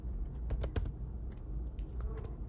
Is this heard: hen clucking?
no